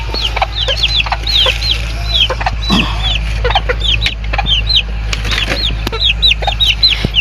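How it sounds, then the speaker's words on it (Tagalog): A flock of one-month-old chicks cheeps in rapid, overlapping peeps near and loud, with occasional clucks and wing flutters over a steady low hum. "Nandito po yung ating sisiw"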